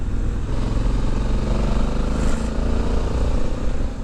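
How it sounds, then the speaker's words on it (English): A 2020 Honda Africa Twin Adventure Sports DCT motorcycle revs hard on a backcountry road, its engine drone loud and continuous from start to finish with no voices. "get the revs up, get your speed up, and this bike comes alive"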